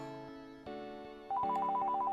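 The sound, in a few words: telephone ringing in the SNES game Vegas Stakes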